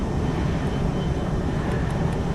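A plane's engine drones in a steady, loud, continuous roar from a film scene, with no talk over it.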